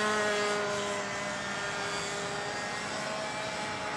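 An RC airplane engine drones loudly and steadily throughout, a continuous close whine with a rough, buzzing edge and no pauses.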